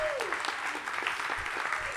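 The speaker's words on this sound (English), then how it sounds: "Maybe we should hold our applause till the end." Audience at a celebration event applauding after a name is read from a list, a steady crowd clapping with a brief voice at the start, continuing evenly throughout.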